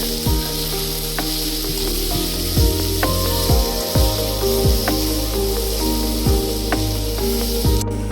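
Hot masala sizzling in a pan while salt, chili powder, black pepper and cumin powder are stirred in, a constant frying hiss broken by repeated spoon scrapes and knocks at a steady rhythm.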